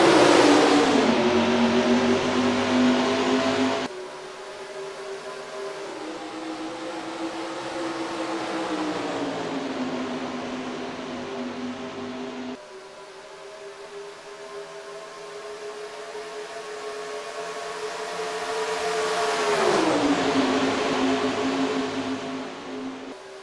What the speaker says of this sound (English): Down to the restart zone, we're green flag racing at Chase race number 10.